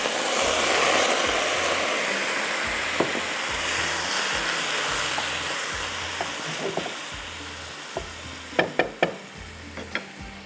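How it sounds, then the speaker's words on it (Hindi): Keema (minced meat) sizzles and fries steadily in garlic in a pan, a continuous hiss with a few sharp stirring clinks and spoon taps near the end, close and fairly loud. "ये लहसुन यहाँ पे फ्राई हो रहा है, इसमें हम पहले डालेंगे कीमा"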